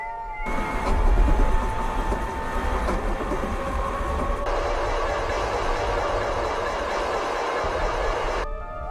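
A train running on rails: a steady, close rumble with rhythmic clatter and a faint tonal whine, holding a constant level, then cutting off at the end.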